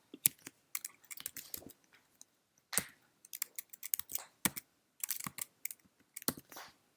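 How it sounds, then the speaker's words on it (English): Someone types on a computer keyboard in short, uneven bursts of crisp key clicks with brief pauses between them, close and fairly quiet. "let me just type some hexadecimal stuff in order to make it a bit more realistic"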